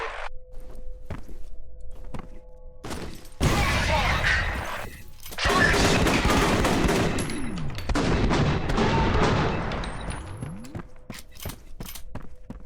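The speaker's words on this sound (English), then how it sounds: "God, these pistols are so satisfying to use" Pistols fire in the video game F.E.A.R. on extreme difficulty, sharp spaced shots followed by a dense stretch of rapid gunfire, shattering debris and footsteps, loud and close.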